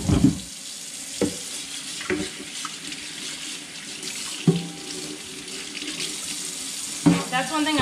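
Kitchen sink tap running water over the removable parts of a Bissell Crosswave PetPro floor cleaner, a steady splashing stream with clunks and knocks as pieces are handled and rinsed.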